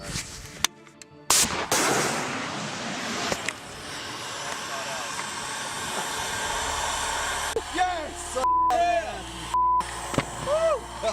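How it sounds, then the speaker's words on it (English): Mortar fire in a combat zone, with a loud sharp burst of blasts early on, then sustained rumbling noise and more distant reports, with voices talking over it. "Hey, mortars are going too."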